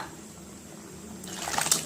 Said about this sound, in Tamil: கொஞ்சம் தண்ணி கலந்து சேர்த்துக்கலாம்